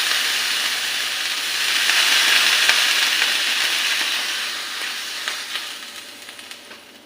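Water splashed onto a hot dosa pan erupts in a loud, hissing sizzle of steam that swells, holds, then slowly fades, with faint crackles near the end and no talking.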